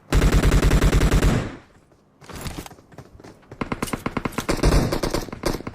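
Gunfire fired to welcome the new year: a loud, sustained burst of rapid automatic shots, a brief lull, then a ragged string of sharp repeated cracks close by.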